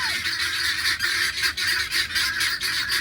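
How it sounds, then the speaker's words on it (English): Guinea fowl on a farm with a fig grove give harsh, repeated honking calls in a loud, rapid chorus that keeps going throughout, with no talking over them. "Those are guineas."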